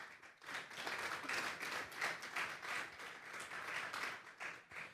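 Church congregation clapping and applauding at a Sunday afternoon service, a steady dense patter of many hands sustained through the whole stretch at moderate level, with no voices on top.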